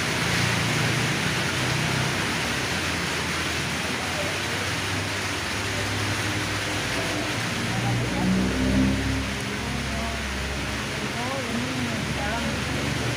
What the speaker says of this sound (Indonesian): Wah, wow, hujannya makin besar.